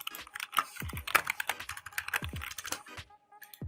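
Fast, uneven clatter of keys on a computer keyboard while a command is entered into a script file, close and clear with no talking.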